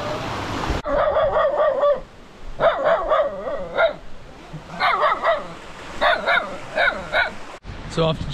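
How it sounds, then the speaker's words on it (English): A small puppy yaps in repeated bursts of sharp, high barks, close by, with short pauses between each flurry, on Flores Island, Indonesia. "being barked away by a little puppy"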